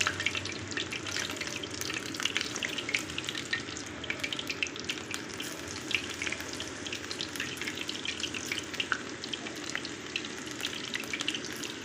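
Mutton kola balls frying in a pan of hot oil, a steady bubbling sizzle with scattered crackles and pops, close and continuous, no one speaking.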